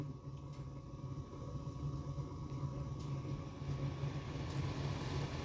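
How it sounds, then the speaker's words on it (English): A gas furnace blower motor running, a steady low hum and airy rush holding an even level without breaks. "That's our blower motor."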